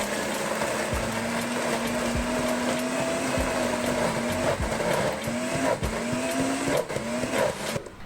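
A blender runs continuously with a high, strained motor whine, punctuated by repeated dull thumps as a Thai green tea frappe churns inside.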